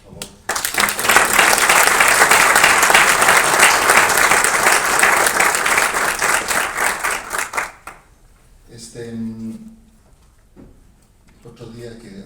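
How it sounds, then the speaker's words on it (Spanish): Loud audience applause fills a book-launch hall at the La Paz journalists' association, a dense burst of clapping that runs for about seven seconds before cutting off, then a voice speaks in the room. "Quisiera que les demos otro aplauso, por favor."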